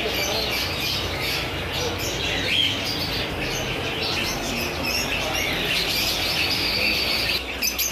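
Dense, continuous squawking and chirping from many parrots fills a bird market shop in Rawalpindi, loud and close, with no break across the clip.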